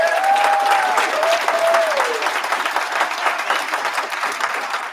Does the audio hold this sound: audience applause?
yes